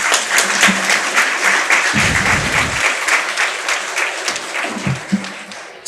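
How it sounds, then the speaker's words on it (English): Audience at a college tech fest breaking into applause, a dense burst of clapping that carries on steadily at close range, with a few low thumps underneath. "I think we can give an applause to all the people who have made this."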